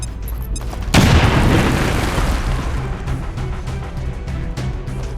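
A grenade goes off in the squad tactics game XCOM 2: a single loud, close boom that hits suddenly, then a long rumbling tail of debris and crackle slowly fading.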